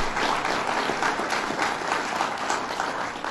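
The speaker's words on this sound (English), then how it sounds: "Give him a round of applause." Audience applause at a governor's public remarks during a Citizen Preparedness Corps training in Oneida, a dense steady wash of many hands clapping at fairly even loudness throughout, with no talking over it.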